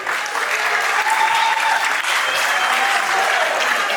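Loud, sustained applause from guests at a civil wedding ceremony, dense steady clapping filling the room with crowd murmur underneath.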